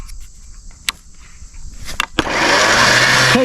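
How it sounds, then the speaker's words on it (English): A winch hauls lumber in along a track: a few sharp clicks and knocks over near-quiet, then a loud, steady motor whir kicks in and holds to the end. "Use the winch to winch her in."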